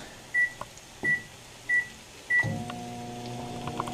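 Four short electronic beeps, then a microwave oven in an RV starts up with a steady, close mechanical hum that carries on to the end as it heats chicken.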